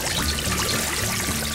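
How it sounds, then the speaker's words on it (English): Water from a toy kitchen faucet runs in a steady, continuous stream, close and fairly loud, pouring without a break for the whole stretch. "Let's go wash it under the faucet."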